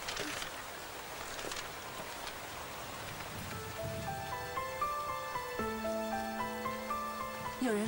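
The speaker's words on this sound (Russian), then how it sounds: "Помню, тогда шел дождь." Rain falls steadily, a soft, even patter of drops on surfaces, fairly faint, while sustained musical tones rise in behind it partway through.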